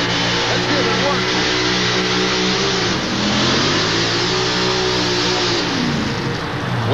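A pulling vehicle's engine roars loud and sustained at a 1989 USHRA truck pull in Anaheim, the pitch sliding up and down as it revs, with an announcer talking over it.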